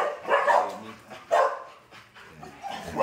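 Tied-up male dogs bark, yip and snarl at one another in a few loud rough bursts, fairly close by.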